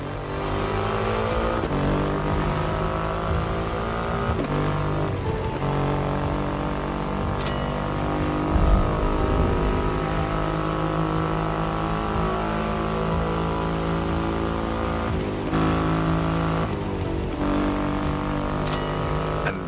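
Triumph Rocket 3 motorcycle with a 2.5-liter engine, a deep, steady engine drone with strong harmonic tone, holding a near-constant pitch with brief dips and a small surge midway, heard alone.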